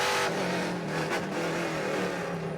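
Trans Am race cars, including a Chevrolet Camaro, roar around the Sonoma track, a loud steady multi-engine drone with a brief passing surge in the middle, close and sustained, with no talking.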